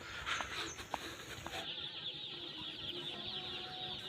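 Chicks at a poultry farm make a dense, continuous chorus of high peeping and chirping. Scattered louder clucks rise from the steady background.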